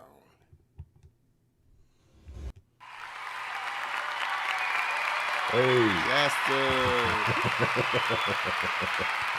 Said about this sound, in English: The sound effect applause.